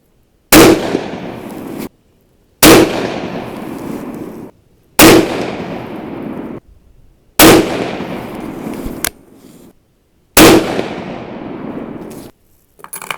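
Five loud, sharp 6.5 Creedmoor rifle shots firing 123gr ELD-M handloads, spaced roughly two to three seconds apart, each a close crack followed by a ringing decay, with no talking.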